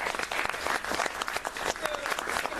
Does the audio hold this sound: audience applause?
yes